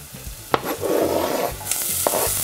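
Barrel-fermented salted pickled cucumbers go into a pan of frying, lightly caramelized onions for rassolnik, giving a loud sizzle with scraping stirs and a couple of sharp utensil knocks, close up, no voices.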